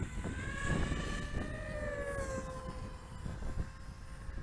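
An STX225 FPV racing quadcopter, a budget DIY kit build, flies outdoors in gusty wind, its motors giving a sustained whine that rises and falls in pitch over constant wind rumble, with no talk.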